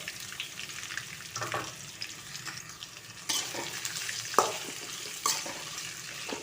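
Chopped ivy gourd fries in oil with mustard seeds, cumin and curry leaves, making a steady close sizzle, with stirring scrapes and a few sharp knocks of a utensil against the pan.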